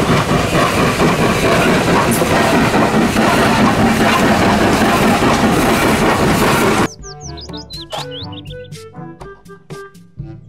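A toy Thomas train rumbles loudly along the tracks with a steady clickety-clack for several seconds, then cuts off abruptly as light music takes over.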